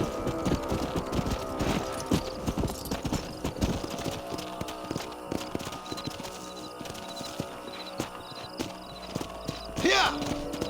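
Horses in the Red Dead Redemption video game, steady clip-clop of hooves at walking pace with a whinny near the end, heard under game speech, music and ambient effects.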